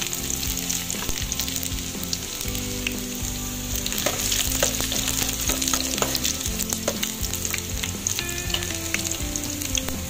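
Garlic and onion sautéing for pansit bihon, a loud, continuous crackling sizzle up close, broken by frequent scraping and clanking of a utensil stirring the pan, with no talking.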